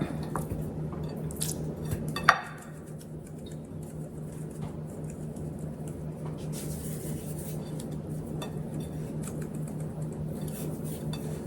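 Bare hands rub seasoning into raw pork chops, making steady wet squishing and slapping sounds up close, with a single sharp clink early on and a low background hum.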